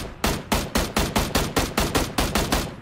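Kar98 rifle fire in the PUBG video game: about eleven loud, evenly spaced shots ring out in quick succession, each a sharp crack with a short decaying tail, with no talk over them.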